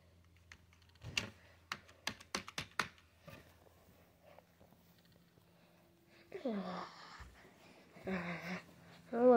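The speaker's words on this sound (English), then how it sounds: "Pressing the keys." Computer keyboard keys pressed in a short burst of sharp clicks, followed by quiet breathing and a couple of louder rustling sounds near the end.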